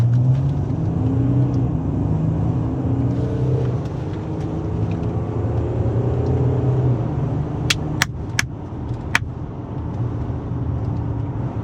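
A Mercedes GLE's engine hums and rumbles steadily from inside the cabin while accelerating on a test drive, with road noise throughout and a few brief clicks near the end.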